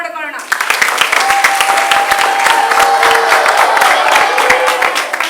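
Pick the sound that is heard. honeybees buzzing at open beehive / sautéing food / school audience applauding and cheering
school audience applauding and cheering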